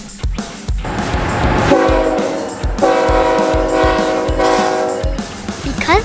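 A very long freight train of 180 double-stack cars passes with a loud, sustained horn blast over the rumble and clatter of the rail cars, close by and continuous.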